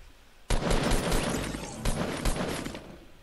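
Assault rifle fire in the Fortnite video game, a loud sustained fusillade of rapid shots lasting about two seconds with brief breaks, starting abruptly.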